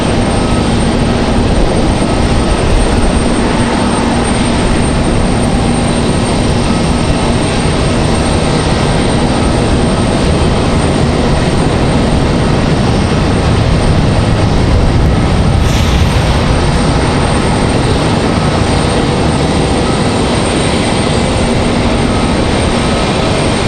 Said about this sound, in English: Very, very smooth touchdown for the Dreamliner.